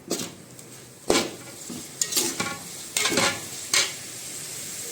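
A biryani masala mixture, made with Everest biryani masala for chole pulao, is stirred in a frying pan. Several distinct scraping strokes of a spoon cut through a soft, continuous sizzle, with no voices.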